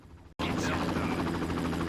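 Helicopter in the video game Far Cry, guarding the top of a boat: a loud, steady rotor drone with dense low chop that cuts in abruptly after a brief silence and holds without letup.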